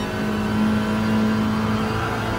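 A front-wheel-drive race car in Gran Turismo Sport holds a steady, loud engine drone under full throttle, a continuous even whine with no speech over it.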